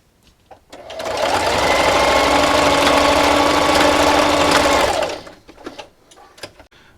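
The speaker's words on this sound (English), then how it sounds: "And then just keep sewing." A sewing machine runs steadily for about four seconds, stitching fabric scraps into a dish scrubber, then stops, leaving a few light handling clicks close by.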